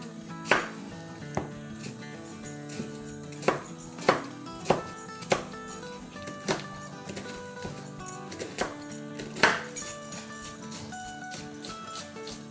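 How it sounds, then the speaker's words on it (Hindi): Onions being chopped with a knife on a board in a home kitchen, a steady series of sharp, close taps at an uneven rhythm, with no talk over them. "तो चले प्याज काट लेते हैं सबसे पहले।"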